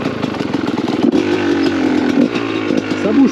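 A motorcycle braking hard on the front brake alone, its engine rumbling and changing pitch as it slows, loud and close, with faint rattles and no voices.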